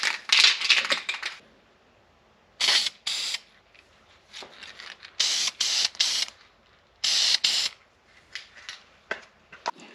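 A transmission, a Dual Range Hydra-Matic, is spray-painted Chevy orange in short bursts: bright hissing spurts of an aerosol can start and stop irregularly, with quiet gaps between them.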